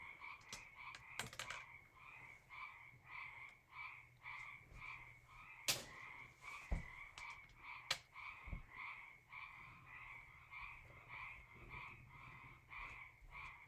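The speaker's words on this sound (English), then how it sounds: "Spring is in the air. The frogs are alive." Frogs croak in a steady rhythmic chorus of repeated calls, a spring sound close and fairly loud, with a few sharp clicks and knocks in between.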